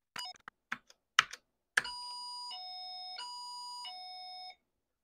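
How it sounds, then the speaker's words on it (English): A few quick clicks of Apple II keyboard keys, then a steady electronic beep from key bounce alternating between two pitches for a couple of seconds, clear and close. "Those beeps are actually when the keys bounce."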